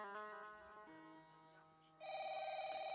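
A telephone bell rings during a staged Nacha folk theatre performance: a ringing tone, then a brief lull, then a louder, steady electronic ring, clear and close with no voices.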